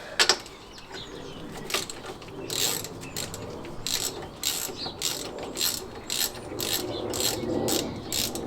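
Wrench working loose the cylinder head nuts on a classic Fiat 500 during a head gasket job, a run of close ratcheting clicks and metallic turns in short bursts, with no talk.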